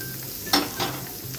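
Smoked turkey dropped into a hot pan with caramelized zucchini, giving a sudden sizzling burst followed by a second smaller flare over a steady low frying hiss, no talking.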